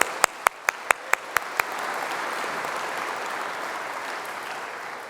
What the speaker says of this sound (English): So a round of applause for Tim Olson's work.